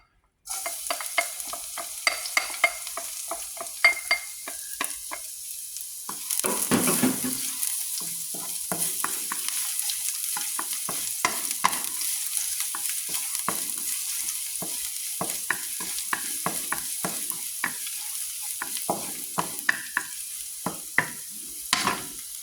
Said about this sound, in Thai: ใช้น้ำมันหมักนะคะ เจียวกระเทียมหอมๆก่อนค่ะ